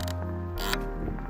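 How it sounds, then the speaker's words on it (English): The turrets of an Arken Optics EP4 4-16x50 riflescope click sharply as they are turned, close-up, in a quick burst of mechanical ratcheting. "There's a positive reassuring click on the adjustments as well as a positive stop"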